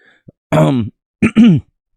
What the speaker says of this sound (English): Sorry as I clear my throat.